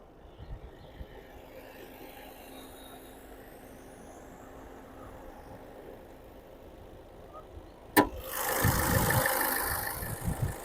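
A 2017 Ford EcoSport Titanium Plus diesel engine idles steadily with a low rumble, then a sharp knock is followed by a louder, rougher surge of engine noise near the end.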